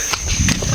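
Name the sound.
pig squealing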